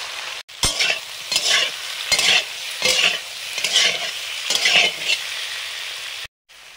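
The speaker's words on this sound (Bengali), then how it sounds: "সরষের তেল দিয়ে কালো জিরে দিলাম, সেদ্ধ করা কচু," Black cumin and boiled taro fry in mustard oil, sizzling steadily while a spatula scrapes and stirs in repeated strokes, close and loud, ending in a sudden silence.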